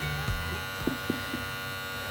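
A Wahl Magic Clip hair clipper running on a newly fitted motor: a steady, even electric hum at moderate level with a few faint clicks, no speech.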